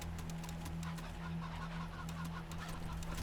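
Several cyborg chickens in a wasteland video game cluck steadily over a constant low mechanical hum, the fowl calls soft and fairly close with no talk.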